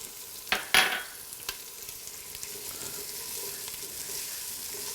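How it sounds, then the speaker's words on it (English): Onions and garlic fry in a pan for a ham hock and white beans dish, giving a soft continuous sizzle after a couple of sharp clatters near the start. "toss in your onions. We're gonna soften those a little bit. All right, now throw your garlic in."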